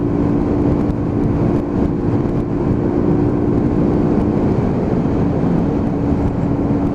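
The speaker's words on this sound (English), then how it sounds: "Just pulling through the box, bringing it up to pound. Now you still got to remember this is a 125 cruiser." A Hyosung GV125 125cc cruiser motorcycle on the road, its engine droning steadily and close at a constant cruising pace, heavily mixed with wind rush, no speech.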